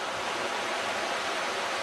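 A large volume of river water flows in a steady, loud, broadband rush that holds constant without a break, with no voices.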